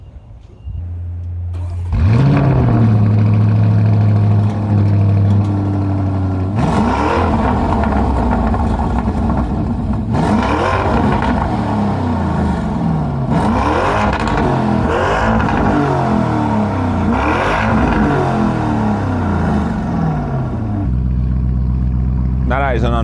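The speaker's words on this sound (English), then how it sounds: "Now that is an unreasonable amount of noise for a car to make." A loud car engine starts and revs hard in a yard, rising and falling through several sustained bursts of throaty roar with crackling overtones, close and dominant, then drops back to a rumbling idle.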